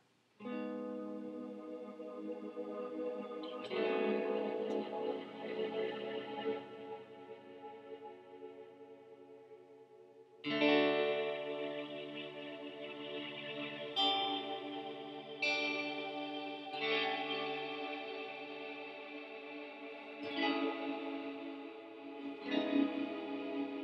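A sustained, shimmering guitar tone through a Line 6 M13 effects unit, washed in reverb, swells like a synth pad, with chords blooming and fading in long overlapping layers.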